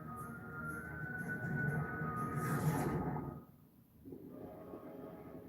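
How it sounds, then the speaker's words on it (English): A moving train locomotive in a video game rumbles loudly and steadily for about three seconds with a hissing surge, then drops away briefly before the low rumble returns. "There's our train."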